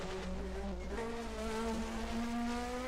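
A 1980 DRM Division 2 race car engine drones at the Eifelrennen, its pitch dropping and then climbing as it shifts down, heard steady and fairly distant throughout.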